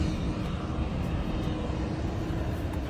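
Steady, loud roar of an airliner powered by a GEnx jet engine, a dense broadband rumble heard close and continuous without break.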